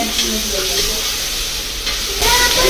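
Chopped tomatoes sautéing in a pan for South Indian sambar give a steady close sizzle with stirring scrapes, growing louder near the end, and no talk over it.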